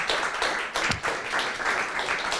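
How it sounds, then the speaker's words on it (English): Dense, steady applause from a large audience after a panel discussion, continuous crackle of many hands clapping at once with no pauses. "Let's give them a big round of applause."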